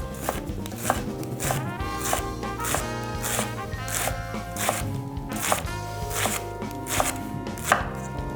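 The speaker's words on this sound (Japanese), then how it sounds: "みじん切りに。" A knife finely chops shallot on a board in quick, steady taps, close and loud, over a layer of soft background music.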